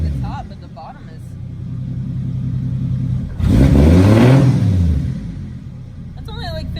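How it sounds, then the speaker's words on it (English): A car engine revs up sharply with a new MAF sensor fitted, one rise and fall in pitch lasting about two seconds after a steady idle rumble, with people talking nearby throughout. "Riley and I just started the car with a new MAF sensor for the first time"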